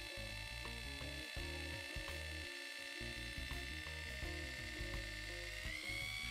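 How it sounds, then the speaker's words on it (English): A steady high-pitched drill whine runs continuously, its motor pitch shifting slightly as it bores in short bursts into a metal rivet post of a Matchbox 52b B.R.M. racing car model. "I drill a hole into the rivet post, small steps at a time"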